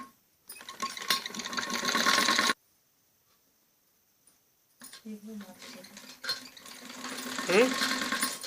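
A sewing machine stitches kameez fabric in short bursts, a close whirring run, a pause of silence, then another uneven run of stitching, with faint speech mixed in.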